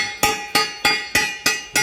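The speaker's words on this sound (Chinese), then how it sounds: "用这个小锤子一点一点往这边进" A small hammer drives a new anti-wrap toothed bar into the small drum of a peanut harvester during repair: six sharp metallic taps at an even, quickening pace, close and loud, with no talking.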